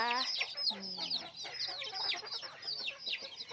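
Small chicks peep and cheep in a lively, overlapping chorus of high, rapid calls, with a few lower clucks mixed in, close by and continuous.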